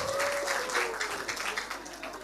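Audience applause fills a lecture hall at a tuberculosis discussion event, a dense steady clapping that carries on throughout, with a faint tone lingering underneath.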